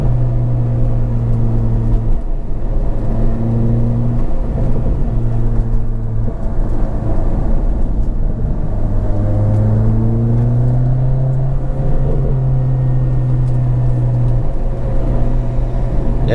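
Acura RSX driving quickly down a rural road in autumn, heard from inside as a steady, loud engine hum with rises and falls in pitch as the car accelerates and shifts gears throughout.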